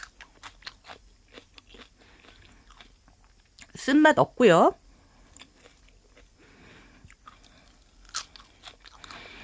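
Close, crisp crunching of a leafy vegetable being chewed in small bites, with a brief spoken Korean phrase interrupting midway.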